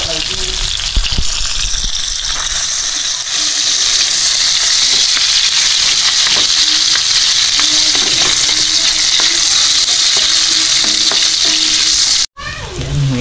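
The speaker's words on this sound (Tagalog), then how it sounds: "Bawang, luya, saka sibuyas yung panakot natin." Garlic, ginger and onion frying in hot oil in a pan for coconut-milk shrimp, a loud, steady, close sizzle with occasional utensil scrapes, cut off abruptly near the end.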